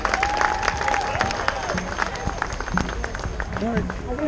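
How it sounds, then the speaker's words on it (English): Crowd applause and cheering at an outdoor Black Lives Matter rally in Toronto, clapping mixed with voices, shouts and a whistle-like tone in the crowd. "So if we can put your hands together and give a big round of applause."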